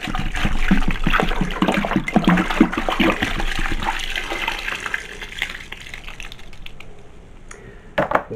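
A bottle of apple juice for hard cider is shaken hard, its liquid sloshing and splashing in rapid bursts near at hand that ease off toward the end.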